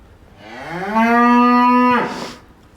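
A calf bleats once near a cow on a farm, a single drawn-out, loud call that rises and holds steady before breaking off abruptly, heard alone without talk.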